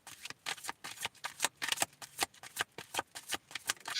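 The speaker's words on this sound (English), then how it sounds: "I'll draw a card for you" Tarot cards are handled and shuffled before one is drawn from the deck, a quick series of soft close riffling flicks and snaps in a rapid, uneven rhythm.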